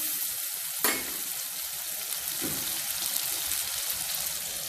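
Tomato pieces cook in a pan for a mushroom curry, giving a steady, close frying hiss with one sharp stir or utensil knock near the start and a softer one later.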